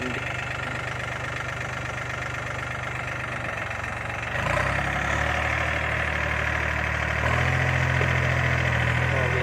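A used Thai two-wheel walking hand tractor engine runs steadily at idle, its low thumping drone growing slightly louder and rougher as it is revved around the middle of the clip, with no talking over it.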